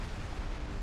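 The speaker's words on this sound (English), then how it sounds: "Explosion imminent." A ship blowing up in the space game X4: Foundations, a dense roaring burst of broadband noise that fills the whole short moment without a clear start or finish, fairly quiet overall.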